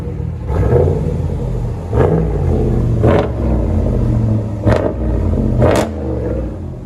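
A RAM pickup truck engine is held against its rev limiter, giving a loud, close, stuttering roar broken by sharp, repeated limiter cuts about once a second.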